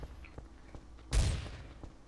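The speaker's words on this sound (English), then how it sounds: "I hear gunshots BG behind me." A single loud gunshot blast in the shooter game Trouble in Terrorist Town, a sharp boom with a decaying tail, preceded by a few faint footstep-like taps.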